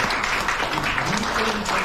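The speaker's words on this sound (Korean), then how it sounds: "박수 한번 보내십시오" Audience applause at a lecture hall talk on North Korea, a brief, steady wash of clapping with a voice faintly mixed in underneath.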